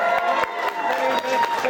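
A wedding reception crowd claps and cheers during the speeches, with loud mixed shouts and scattered claps over a short burst and voices audible in the mix.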